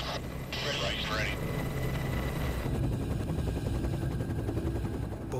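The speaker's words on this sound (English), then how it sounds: "Both helicopters finally in the air." Steady, loud rotor and engine drone of two combat rescue helicopters taking off and flying fills the clip, with a rhythmic thudding texture and voices briefly audible over it.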